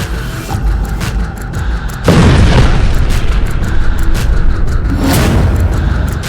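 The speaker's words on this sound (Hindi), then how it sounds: "क्योंकि तेल अवीव के बीचों बीच ईरान की मिसाइल गिरी है" An Iranian missile strike in Tel Aviv, heard as a loud broadband boom that erupts suddenly after a couple of seconds of rumbling background and then sustains a heavy roar to the end.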